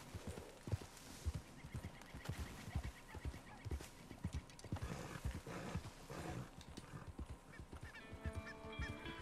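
A horse galloping and neighing in a video game, rapid rhythmic hoofbeats driving through with loud snorting, whinnying calls over the top and other game sounds layered in.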